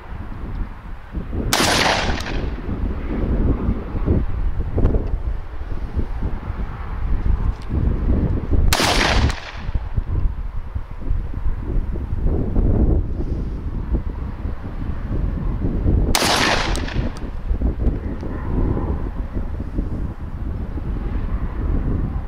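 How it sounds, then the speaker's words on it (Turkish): Strong wind roars across the microphone at an outdoor test of a Serengeti Legion 120 gun, a continuous rumbling gust broken by three sharp, loud shots spaced several seconds apart. "Rüzgar coştukça coşuyor"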